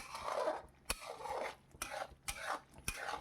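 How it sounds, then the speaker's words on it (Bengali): A spoon stirs paneer masala with cashew paste in a pan, making soft rhythmic scraping strokes punctuated by four sharp metallic clinks against the pan, close and quiet with no talk. "এবার ভালো করে কষিয়ে নিচ্ছি খুব সুন্দর করে কষিয়ে নিতে হবে"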